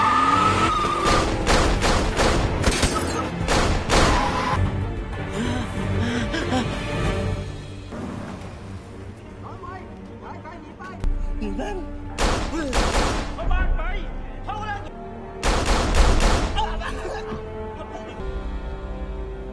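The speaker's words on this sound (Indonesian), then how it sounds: "Joe mengejar mobil si bos gangster itu dan menembakinya." A car chase in an action film, with rapid bursts of gunfire, tyre skids and engine noise in loud clustered volleys separated by quieter stretches of rumbling and music-like tones.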